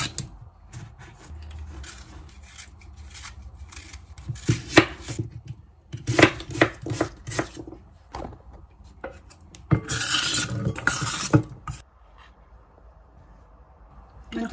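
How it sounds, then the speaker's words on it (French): A knife chops fruit into small pieces for a lemonade cocktail, sounding as bursts of crisp, close board taps and scraping strokes, with quieter pauses between the rhythmic runs. "C'est mieux couper tout en petits morceaux"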